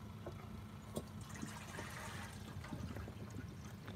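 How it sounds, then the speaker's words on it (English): Water trickling and pouring into a dog's rusty bucket, a steady low splashing wash running through the whole stretch with a few small splashes. "Want me to put some water in your rusty bucket?"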